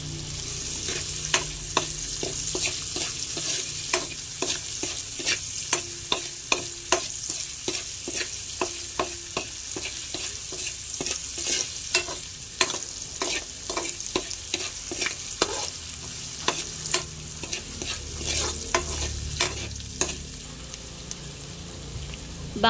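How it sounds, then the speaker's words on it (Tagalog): Ginger and onion sautéing in a pan for escabeche, a steady close sizzle with frequent sharp stirring clicks and scrapes of the utensil against the pan, no talk. "ilalagay ko na rin po itong luya at saka po itong sibuyas. Sa akin na pong pagsasabayin. Atin na po igigisa."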